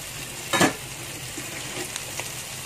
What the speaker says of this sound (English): And then put in your winged beans, kacang botol.